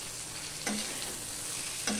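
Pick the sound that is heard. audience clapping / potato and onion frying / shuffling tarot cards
potato and onion frying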